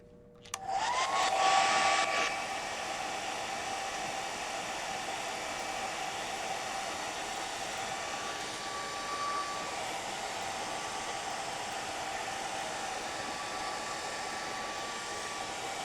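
A hair dryer starts up with a rising whine and then blows a steady, loud, close rushing roar over freshly pulled gelli plate prints, running continuously for many seconds with no voices.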